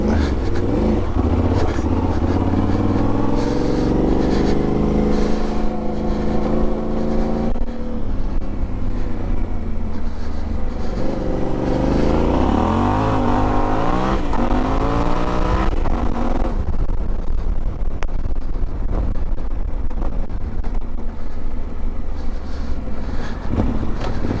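A 2021 Yamaha Ténéré 700 engine drones steadily while ridden off-road on a trail. The pitch rises and falls as the throttle changes, under heavy, constant wind rush across the microphone.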